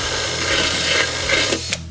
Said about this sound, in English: now we got the 11/16 on the drill, and my dad's actually gonna do it